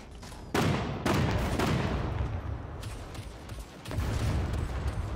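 A mech in SCUM launching high-explosive and tear gas grenades, several loud blasts in quick succession with rumbling decay between them, close and forceful, with no speech.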